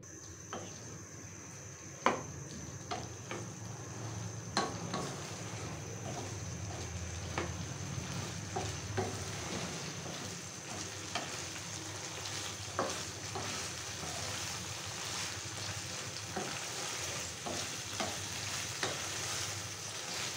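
Beef liver with ground spice paste fries over a medium flame while being stirred. A steady sizzle runs for about twenty seconds, punctuated by regular scrapes and taps of the spatula against the pan.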